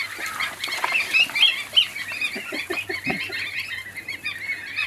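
Young Landes geese, four-day-old goslings, honking and calling in a busy cluster of overlapping nasal cries, close by and steady throughout, with no talk over them.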